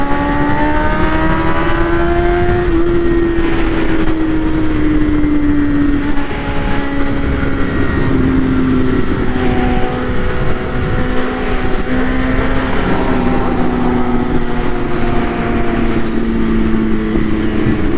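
Several BMW S1000RR sport bikes race along a Dallas freeway, their engines revving in a loud, sustained howl with pitch rising and falling as they accelerate past, continuous throughout with no talking.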